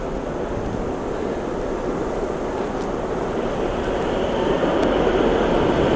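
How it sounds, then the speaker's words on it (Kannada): Metro train arriving and starting off, a steady loud rumbling roar of wheels and motors that grows slightly louder toward the end, close by with no speech. "ಟ್ರೈನ್ ಬರ್ತಾಯಿದೆ, ಮೆಟ್ರೋ ಬರ್ತಾಯಿದೆ ನೋಡಿ, ಸ್ಟಾರ್ಟ್ ಆಗ್ತಾಯಿದೆ ಮೆಟ್ರೋ."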